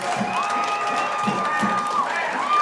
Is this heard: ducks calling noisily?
no